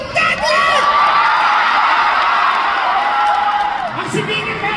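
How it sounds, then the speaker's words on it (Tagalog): An audience at a comedy show staged at a music festival in Jose Rizal roars with loud, sustained shouting and cheering, dense crowd voices filling the whole stretch with a few whoops rising above. "Magpalakpakan po na may kasamang sigawan na nagsasabing pangit si Tekla!"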